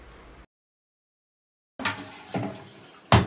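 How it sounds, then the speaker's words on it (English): A toilet flushing in a home bathroom during speed cleaning: after a moment of silence, a close rush of water starts and surges in a few loud bursts. "then I chuck them down the toilet and then flush them"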